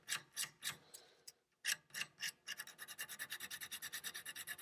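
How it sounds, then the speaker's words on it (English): Short strokes of 220-grit sandpaper rub against a burnt arcade board edge connector, a few slow rasping passes, a pause, then a quick steady run of rapid scratching, close and quiet. "220 sandpaper, little piece here. We want to just clean up all of this."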